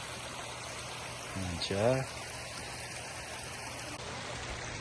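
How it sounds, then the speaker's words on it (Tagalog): A strong mountain stream of melting snow water rushes near Grassi Lake in Alberta, a steady broadband roar throughout, with a short spoken phrase heard over it partway through. "Sa lakas ng tubig yan. Galing siya sa tuktok pa ng bundok kasi nga may mga snow pang natutunaw."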